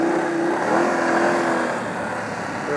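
A BMW F 850 GS Adventure motorcycle engine droning steadily at high revs off-road, close and loud, its pitch holding then dipping slightly, with wind rush over it.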